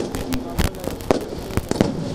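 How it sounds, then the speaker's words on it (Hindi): Fireworks at a Dussehra fair in Ladnun, before the Ravana effigy burning, heard as a rapid series of sharp cracks and pops over crowd noise, with a voice speaking in between. "बहुत सुंदर आतिशबाजी हो रही है सर"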